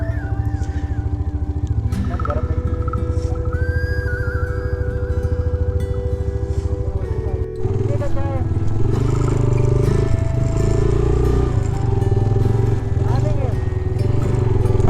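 A motorcycle engine drones steadily up close while riding a mountain highway toward Shandur in Chitral, with a shift in pitch partway through and someone speaking over the engine noise.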